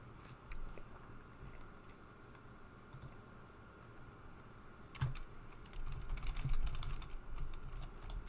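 Fairly faint computer keyboard typing with scattered key clicks that thicken into a busier run of keystrokes toward the end, no talk over it.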